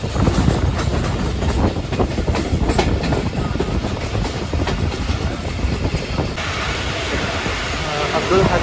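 The Pakistan Express passenger train runs on its rails with a loud, continuous rumble and rapid clickety-clack of wheels, heard up close from a crowded doorway, with a voice speaking over it.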